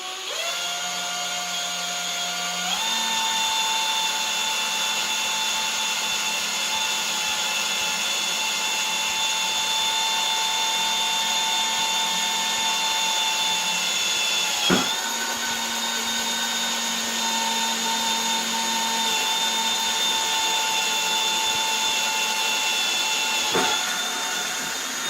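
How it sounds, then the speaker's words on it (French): A power drill bores into the center of a metal U-rail on a fence post, whining steadily at high pitch for a long stretch, with a brief change in tone partway and a short release near the end. "enfin on perce en plein milieu."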